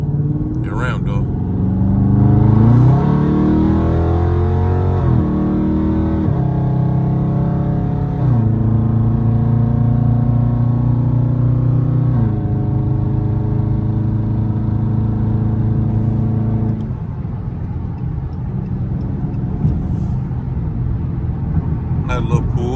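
A Dodge Scat Pack pulls hard on the highway early in the morning, its engine note climbing through several upshifts, each rise cut by a brief drop before it settles into a steady cruising rumble, heard from inside the car.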